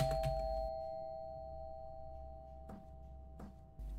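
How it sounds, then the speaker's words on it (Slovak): Doorbell ringing in the horror game Fears to Fathom Home Alone: a sustained electronic chime tone, with a few sharp thuds and clicks breaking in, fairly quiet and without speech. "Na čo zvoníš? Nezvoň."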